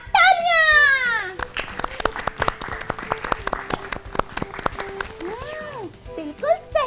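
A studio audience breaks into applause for a correct answer on a PCOS awareness quiz show, with clapping that rises and fades under high, excited child-like voices and a brief wail.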